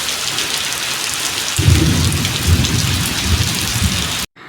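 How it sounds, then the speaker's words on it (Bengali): Heavy rain pours steadily onto a rooftop, a dense close hiss, with a deep rumble of thunder rolling in partway through before the sound cuts off abruptly. "আর এখন কি পরিমাণে বৃষ্টি হচ্ছে"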